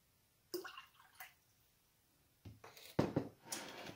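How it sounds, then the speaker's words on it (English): Short splashy bursts of vinegar being poured into water, a brief splash early on, then a longer pouring gurgle near the end, close and fairly quiet. "I have 1/4 of a cup of vinegar, which I'm going to add to 1/2 cup of water"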